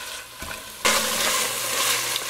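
Whole broccoli, stems included, sautéing in a pot for broccoli cheese soup while being stirred, a loud steady sizzle that jumps up suddenly partway through and holds, with no talking.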